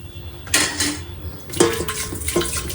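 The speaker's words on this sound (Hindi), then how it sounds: "पहले स्टैंड डाल रही हूँ एंड देन इसमें पानी डालूंगी" A metal steamer stand is set down into a large pot, producing two or three sharp metallic clanks and ringing scrapes, close and clear in a quiet kitchen.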